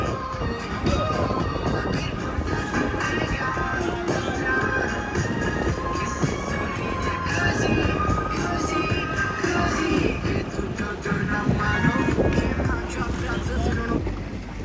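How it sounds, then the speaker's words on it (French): Steady wind rushes and buffets across Lac Saint-Jean during a long-distance swim crossing, heard from an accompanying boat as a south wind rises, with continuous broadband roaring and gusting on the microphone throughout. "avec un vent sud qui se lève"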